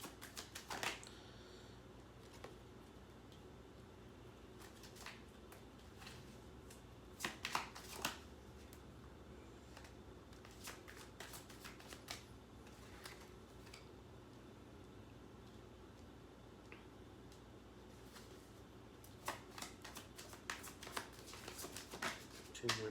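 Tarot cards being shuffled and handled close up in a quiet room, soft riffling patters and ticks in bursts over a low steady background, with no one speaking.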